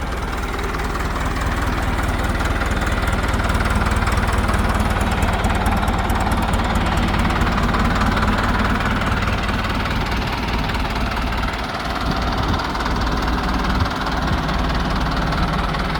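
A used pickup truck engine idles smoothly and steadily, a close, continuous rumble with a faint rhythmic knocking texture and no talk.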